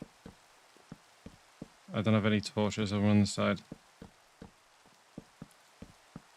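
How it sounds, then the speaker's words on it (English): Rain falling in the Minecraft Sky Factory 4 video game, heard as sparse, irregular droplet ticks throughout, with a person talking briefly in the middle. "It's raining."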